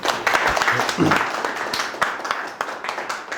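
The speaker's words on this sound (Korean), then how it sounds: "박수 한번 주시기 바랍니다." Audience applause at a lecture, scattered clapping from a modest crowd that rises briefly and then thins out, with voices mixed in underneath.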